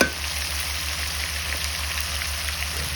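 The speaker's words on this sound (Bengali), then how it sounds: "সরিষা বাটা লবণ গুঁড়ো মশলাটাকে ভালোভাবে কষিয়ে নেব" A spice paste of ground mustard, salt and powdered spices fries in a pan for fish curry, making a loud, even, continuous sizzle with no break and no voices.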